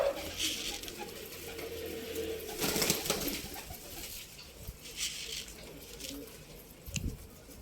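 Pigeons around a coop give soft cooing calls, with a burst of wing flutter and patter near the start and scattered knocks later, fairly close with no talk.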